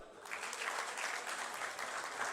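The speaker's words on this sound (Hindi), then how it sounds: "अपने लिए तालियां बजा दो।" An audience at a Unity TRG Alliance election get-together in Clifton applauds, a dense, continuous wash of clapping from many hands that holds steady and fairly soft for a couple of seconds.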